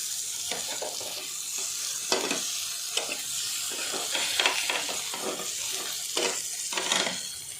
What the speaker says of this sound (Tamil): இப்போது நம்ம மீன் பொரிஞ்சிச்சு திருப்பி போட்டுக்கலாம்